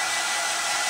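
A hair dryer running steadily at full blast, a loud, close, unbroken hiss from start to finish.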